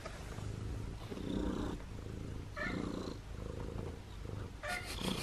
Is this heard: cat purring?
yes